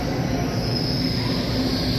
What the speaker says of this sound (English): I think I hear it. Yep, I hear it, guys. It's an Azur train.